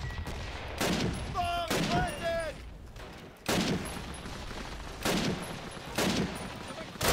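Rifle and automatic gunfire in Call of Duty: United Offensive multiplayer on the Foy map, loud repeated bursts of shots in a steady rhythm, with a few whistling tones between volleys.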